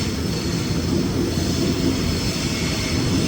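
A Sydney Goninan K set suburban train rumbles at Central station platform 17 on the city circle, a loud continuous roar of wheels and motors with a broad hiss, no voices over it.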